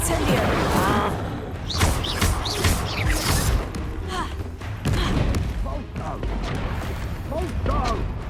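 A fire spell cast in the Fantastic Beasts: Enter the Vivarium game, with bursts of thumping magical impacts and crackling effects mixed under shouted spell names and character voices.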